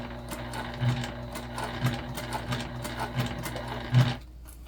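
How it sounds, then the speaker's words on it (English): Sewing machine cranked by hand through a bulky corner seam of a small backpack, with slow, steady needle thumps about once a second over a low mechanical hum, close up. "I'm just hand cranking through what I can see is definitely a bulky part over there in the corner."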